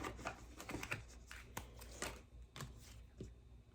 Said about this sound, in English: One more shuffle for the King of Swords.